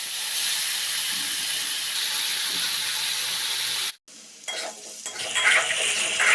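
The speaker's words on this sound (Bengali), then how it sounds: "আলুগুলো এরকম হালকা লাল লাল করে ভেজে আমি তুলে নেব।" Potato pieces frying in soybean oil in a wok give a loud, steady close-up sizzle that cuts out briefly, then returns with clattering stirring and a bubbling hiss.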